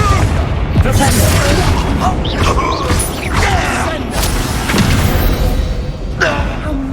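Confringo fire-spell blasts in Hogwarts Legacy combat: loud, continuous booms and crashes with whooshes and thuds layered over dense battle noise, a shouted voice briefly heard in the fray.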